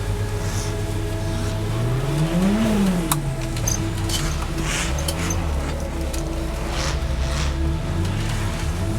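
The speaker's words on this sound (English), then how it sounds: "Time to take the Gemini for a skid on the wet skid pan." A Gemini car on a wet skid pan, its engine revving up and easing back in a loud, steady drone with rising and falling pitch, close to the microphone and without speech.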